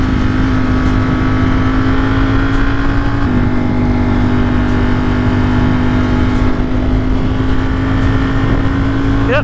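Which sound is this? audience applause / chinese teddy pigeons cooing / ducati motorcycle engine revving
ducati motorcycle engine revving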